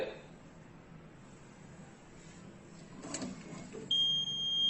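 A short electronic beep from an electronic voting machine after a vote is cast during a mock poll demo, a thin tone rising late over a quiet room hum.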